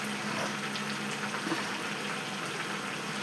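Fish frying in hot oil with curry leaves, a steady close sizzle and bubbling that runs unbroken without any talk.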